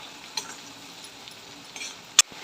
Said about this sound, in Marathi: चवीनुसार मीठ टाकून घेऊया थोडी हळद टाकून घेऊ छान प्रकारे मिक्स करून घेऊया